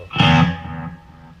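Distorted electric guitar played through an amp's dirty channel with a volume boost, one loud chord struck and left to ring and fade over about a second, heard alone in a room.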